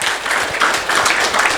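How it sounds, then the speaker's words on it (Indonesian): Church congregation clapping in praise during a sermon, a brief burst of many hands applauding together, close and fairly loud. "Beri tepuk tangan buat Tuhan."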